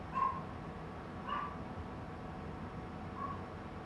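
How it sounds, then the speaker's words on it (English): Dogs bark faintly somewhere in the house, three short, separate barks spaced over a few seconds against low background hum, with no talking. "But why is the dog barking?"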